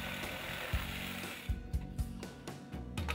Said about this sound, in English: Use a jigsaw to cut out the rough shape.